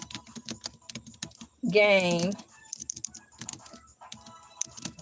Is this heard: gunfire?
no